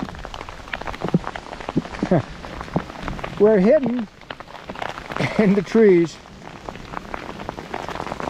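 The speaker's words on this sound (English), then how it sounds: "Well, full rain gear on. Hail." Hail and rain pelt a hiker's rain gear and pack cover on the Colorado Trail, a dense close patter under someone talking.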